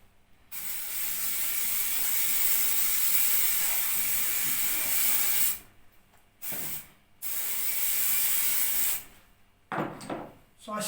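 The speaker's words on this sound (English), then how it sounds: "So I spray it all with silicone." Silicone spray hisses from an aerosol can onto a car seat cover during upholstery work on an MG Midget, in one long steady burst of about five seconds followed by two shorter bursts, close and loud with a few handling noises.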